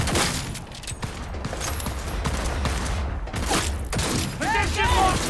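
Bursts of gunfire from Cyberpunk 2077 crack and thud over scattered mechanical clatter and in-game effects, with someone talking over much of it.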